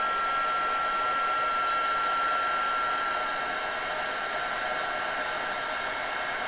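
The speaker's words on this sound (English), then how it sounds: "going to heat up my heat gun for just a minute over to the side" A heat gun blows a loud, steady stream of air, a constant high whooshing whine that never lets up.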